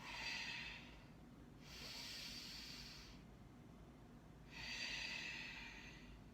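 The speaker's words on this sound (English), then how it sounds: "Couple breaths here, inhaling and exhaling." Slow yoga breathing during a triangle pose, with three airy breaths in and out. They are close and soft, separated by brief quiet gaps, with no talk.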